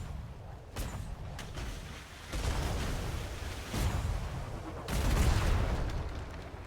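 Ship cannons fire in the game Atlas, a string of deep booming blasts with rumbling tails, spaced a second or two apart and fairly loud.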